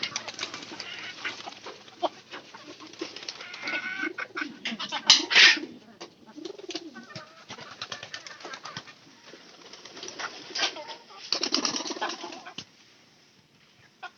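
Pigeons kept at home coo in low, throaty bursts, with a quick flutter of wings near the middle, against a quiet background with faint voices.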